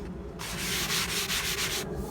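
Sandpaper rubs briskly back and forth across a molded piece to smooth its surface flaws, a close, loud, steady scratchy rasp with a rhythmic pulse from the strokes, heard alone.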